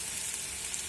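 Spices and ginger-garlic paste sizzle steadily in a hot pan as they are stirred, a continuous close, bright frying hiss with no voices.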